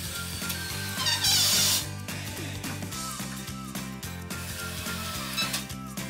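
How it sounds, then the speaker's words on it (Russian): A self-tapping screw driven into a wooden bar while building a shelving rack, heard as a close, rhythmic whirring of a power driver with a brief louder burst early on and ratcheting pulses throughout. "приложить по месту брусок и закрутить саморез"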